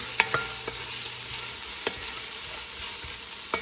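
Lentil soup vegetables, including celery, are stirred in a hot pot, a steady sizzle of frying under occasional scraping clicks of the spoon against the pot.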